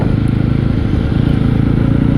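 A Yezdi Roadster motorcycle rides over dirt and bumpy off-road tracks, its engine thumping in a close, loud, steady rhythm with no talking.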